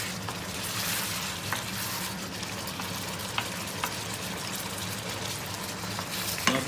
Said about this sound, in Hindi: चिकन को भी हम ऑयल में अच्छी तरह भून लेंगे